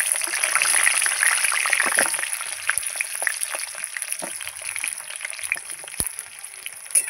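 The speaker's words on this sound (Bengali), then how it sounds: "তেল গরম হয়ে গেছে, এবার আমি আলুটা দিয়ে দেবো।" Potatoes dropped into hot oil in a wok sizzle loudly at first, then settle into a crackling, spitting fry with scattered pops over a few seconds.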